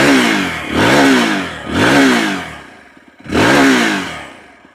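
TVS Apache RTX300 motorcycle engine revving hard to about 5000 RPM three times, each loud close rev rising then falling back toward idle.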